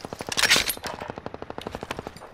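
Rapid automatic laser-like gunfire in a shooter video game, a dense burst of bright zapping shots that settles into a steady evenly spaced rattle of individual blasts, loud and close with no talk.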